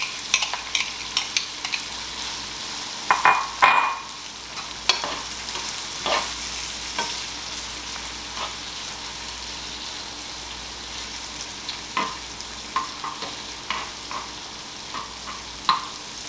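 Onions frying in a pan, a steady close sizzle throughout with repeated scraping clicks of a utensil as they are stirred, some louder clattering bursts early on, no talking.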